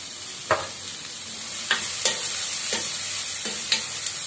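Cabbage and capsicum sautéing in a pan, a steady soft sizzle broken by about six sharp scraping stirs spread unevenly across the moment, close and alone with no voices.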